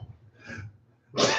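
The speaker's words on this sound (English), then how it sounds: "He's having a coughing fit." A man coughs harshly in a short burst, close and loud, the last cough the strongest, during a tabletop game session.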